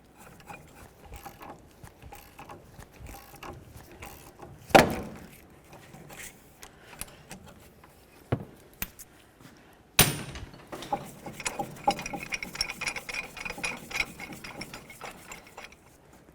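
A ratchet works a ball joint press on a 1999-2007 Chevy Silverado front upper ball joint, giving faint, irregular clicking strokes with a few sharper metallic knocks, close up and without talk.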